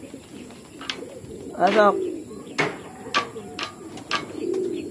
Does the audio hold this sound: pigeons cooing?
yes